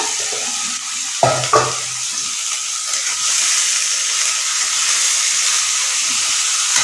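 Chopped radish sizzles in a hot pan, two sharp clunks of stirring near the start before a loud, steady frying hiss carries on alone.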